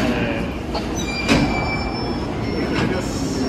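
A JR West 681/683 series limited express train, the Thunderbird bound for Osaka from Wakura Onsen, couples cars at Kanazawa Station, with a steady rumble, a sharp clunk partway through and a faint high whine.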